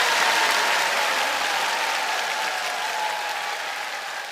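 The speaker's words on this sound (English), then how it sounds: "Mayor Mossy scratches his head thoughtfully as students clap for" Students clap during a school play, giving a dense, sustained round of applause that fades slightly toward the end, with no talking over it.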